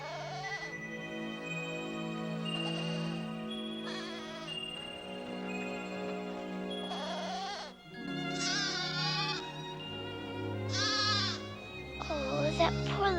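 A little goat bleating repeatedly, high wavering cries one after another, close and clear, mixed with orchestral music from an animated film.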